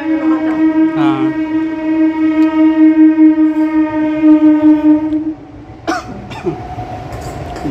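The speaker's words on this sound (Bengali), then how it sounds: "বন্ধুরা আমাদের বাড়ির সামনে দিয়ে ট্রেন যাচ্ছে" A train on the Howrah–Kharagpur line blows a long, loud sustained horn nearby for about five seconds, followed by the clatter and rumble of the passing wagons.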